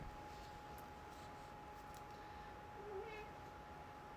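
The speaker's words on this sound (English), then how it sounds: "Why did you meow? You never meow." A single short cat meow, faint and somewhat distant, over a quiet hiss and steady high electronic whine.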